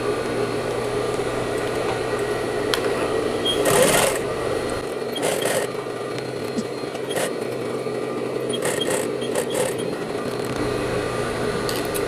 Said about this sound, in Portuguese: E vou costurar a partir daqui.